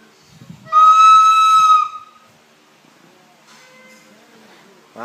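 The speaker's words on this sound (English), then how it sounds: "Wow, nice flute." A child blows a toy flute, sounding one loud, sustained shrill note for about a second, followed by quieter, wavering tones and soft background noise.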